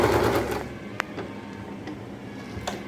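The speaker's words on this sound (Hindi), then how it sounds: "अब इस पर इस तरीके से सिलाई डाल के इसे कर लेते हैं।" A sewing machine stitches pleats into old saree fabric, whirring loudly at first, then going quieter with a few sharp ticks and clicks.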